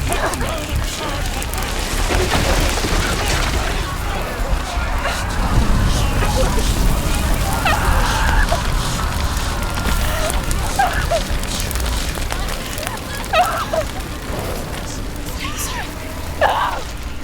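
Fire burning in Hellblade: Senua's Sacrifice during a frantic charge through flames, a continuous loud roaring crackle with low rumbling booms, running steadily throughout with voices calling over it.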